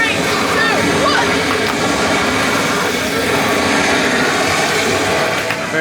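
Water launched from an interactive jump-activated fountain at Epcot's Journey of Water attraction rushes and sloshes steadily under a dense, loud outdoor crowd wash, with no single distinct burst standing out.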